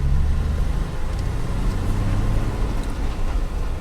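A car cruises through residential streets in Navarre, Florida, its steady engine hum and tire roar filling the cabin continuously with a low rumble and no speech.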